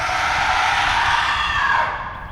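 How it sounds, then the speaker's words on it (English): A dragon's terrifying, bone-rattling shriek, heard in a Welsh legend, rings out as one loud, sustained, harsh scream that fades slightly at the end. "The story begins with a terrifying shriek."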